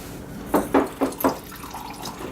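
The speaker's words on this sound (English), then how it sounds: "So I'm going to add an extra 1/4 cup of water in there, so it's 2 1/4 cups of water." Water poured into a pot of rice for hibachi-style fried rice, heard as a few short, close splashing bursts spaced over about a second, then a quieter wet trickle.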